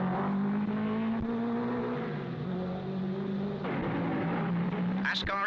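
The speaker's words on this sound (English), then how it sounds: "The cars are seen here rounding that tricky corner at the bottom of the hill and accelerating away to something in the region of 100 miles an hour." Vintage 1955 Formula 1 race cars accelerate out of a tight corner at the bottom of the hill at Monaco. Their engines hum steadily as their pitch rises and falls across several seconds, slightly distant.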